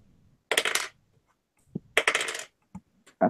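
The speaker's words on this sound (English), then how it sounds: "That's a lot of dice I'm hearing." Several dice clatter and roll across a table during a tabletop role-playing game, two loud bursts of rattling about a second apart followed by a few short single knocks.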